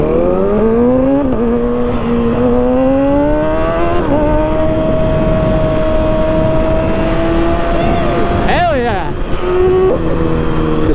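A Honda motorcycle engine revs up close through rising gears, loud and sustained, with steady pitch climbs between shifts, brief rider chatter and wind noise mixed in.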